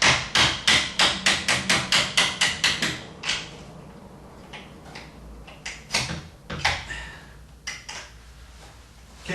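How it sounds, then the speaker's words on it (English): A hammer, held sideways, taps on the hinge pins of a bedroom door, giving a quick run of about a dozen light, evenly spaced metallic knocks, then scattered softer taps and handling clatter. "I have to put my hammer sideways on this one maybe."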